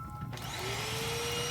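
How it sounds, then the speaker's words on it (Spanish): Vacuum cleaner starts up and runs steadily in a church classroom, its motor whine climbing and then holding as a loud, close, continuous drone. "Había estado pasando la aspiradora y revisando las aulas"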